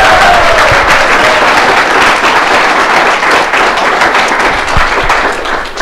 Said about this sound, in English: If you can give them all a big round of applause